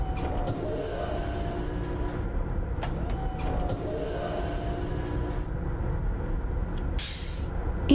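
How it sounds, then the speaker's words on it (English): A steady hissing rush like air brakes or escaping steam in the video game Myst, continuous and fairly loud, with a sharper burst of hiss near the end. "It sounds like a truck air brakes or like steam escaping from a valve or something"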